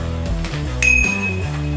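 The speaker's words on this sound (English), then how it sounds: "bell," A bicycle bell on an EcoTric Peace Dove electric bike gives one bright ring with a lingering metallic tone, heard over a low musical background.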